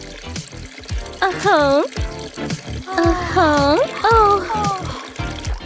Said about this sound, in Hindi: ये आया पानी।